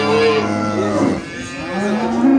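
A brindle cow with her calf at the Sokuluk livestock market lets out a loud, drawn-out moo that rises and falls, heard close and on its own.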